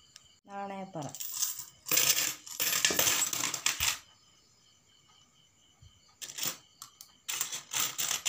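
Coins clink and jingle as they drop into a measuring vessel for a Vishu Kani arrangement, heard in two loud bursts of metallic rattling separated by a quiet pause, with a brief chime near the start.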